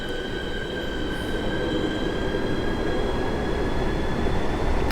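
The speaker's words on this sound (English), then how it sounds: "Oh, and now that train is going." A Southeastern high-speed train in Train Sim World 2 pulls away with a loud, steady rumble, a rising high whine and squealing wheels throughout, close by and unbroken.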